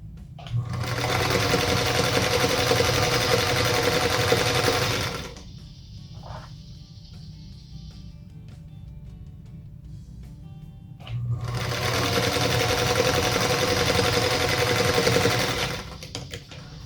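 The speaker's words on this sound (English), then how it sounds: "I'm going to continue chain piecing those as well" A sewing machine chain piecing fabric for a Union Star quilt block runs in two long, steady whirring bursts, close and loud, separated by a quiet pause with a brief mechanical click.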